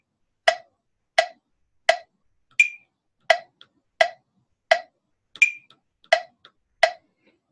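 Metronome clicking quarter notes: evenly spaced sharp ticks about every 0.7 seconds, close and clean, with a higher-pitched accent click at the start of each bar.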